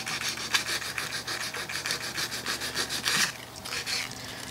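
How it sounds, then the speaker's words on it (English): Light hand sanding on the wooden cabinet of an antique Singer treadle sewing machine, a steady series of close, soft scratchy rubbing strokes with a brief pause near the end. "Just sanding lightly here."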